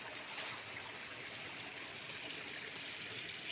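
A small creek runs shallow in the dry season on a farm lot with bamboo in Nagcarlan, Laguna. The water makes a steady, soft broadband rush and trickle, continuous and faint, with no voices.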